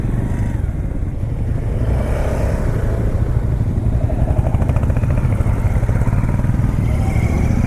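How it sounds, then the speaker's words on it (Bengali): A motorcycle cruises along a road on a long ride from Kolkata toward Bishnupur, its engine giving a loud, steady, close drone with wind rumble and no talking. "এখন অবধি আমার বাইক চলেছে"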